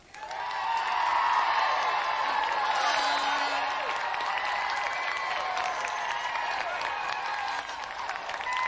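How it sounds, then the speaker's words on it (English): Sustained applause from a crowd, loud and dense throughout, with scattered cheers mixed in before it thins slightly near the end. "Let's have another round of applause for Dean Mortlock and Paul Mellerick."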